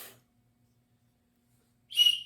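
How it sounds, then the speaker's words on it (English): A small whistle built into an everyday-carry multitool is blown once, a short, shrill, clear blast near the end after a brief quieter tone at the start, with no talking. "Okay, it's got a whistle too."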